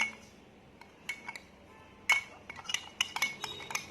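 A spoon stirs a syrup mixture in a glass, with a handful of sharp clinks and scrapes in an uneven rhythm over a quiet background.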